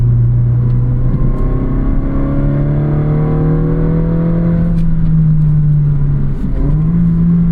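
A 2023 Honda Civic Si's 1.5-liter turbocharged four-cylinder revving under acceleration, a loud rising induction growl climbing steadily, dipping briefly for a shift, then pulling again, heard from inside the car.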